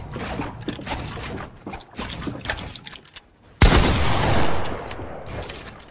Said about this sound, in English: Did we both just shoot at the same time?